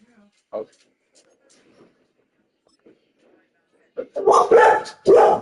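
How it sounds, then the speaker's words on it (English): After near silence, a dog lets out a few sharp barks close by, loud and abrupt, ending with a final bark. "Hey, chill out. What are you barking at?"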